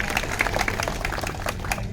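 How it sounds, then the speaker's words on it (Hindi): An audience claps at a community program to honour a guest, the son of a spiritual leader who started a city cleanliness drive in Dadri; a steady, dense burst of applause runs throughout, fairly close. "ताली बजा के सम्मानित करें इनको।"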